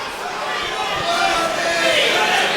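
Restless crowd at a Full Contact Contender fight night murmurs and calls out in a steady, dense wash of noise, with a voice talking over it.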